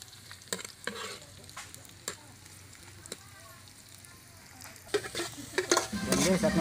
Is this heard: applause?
no